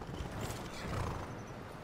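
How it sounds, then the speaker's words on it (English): Horse in the Skyrim video game whinnying over a steady bed of game ambience, with a brief swell near the middle; close and fairly loud, lasting under two seconds. "That horse there is yours."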